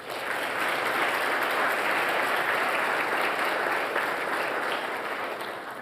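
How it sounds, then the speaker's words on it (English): Sustained audience applause fills a white coat ceremony for an optometry school class, a dense, steady clapping from a large crowd lasting the whole stretch without pause. "So give him a round of applause."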